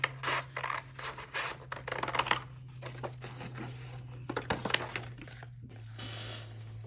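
Scissors cut paper in a rapid series of crisp snips and rustles, with short pauses between bursts, close up and fairly quiet over a low steady hum.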